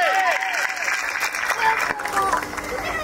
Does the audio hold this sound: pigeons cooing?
no